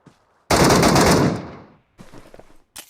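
A loud burst of rapid automatic gunfire in a video game lasts about a second and fades, followed by a few quieter scattered shots and clatter.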